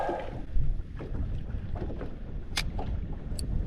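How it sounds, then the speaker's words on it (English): Strong wind buffets a small fishing boat on Moreton Bay's shallows, a constant rough roar against the microphone with a heavier gust early and a few sharp knocks and clicks. "Wow, this wind's terrible."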